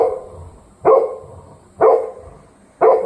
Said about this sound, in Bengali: বাইরের কুকুর চিৎকার করছে